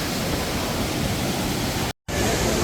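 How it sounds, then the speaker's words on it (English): The Sapadere waterfalls near Alanya, Turkey, roar as a steady, broad rushing of falling water that fills the whole scene at full strength, cut by one brief break in the sound before it resumes unchanged. "And of course, these waterfalls."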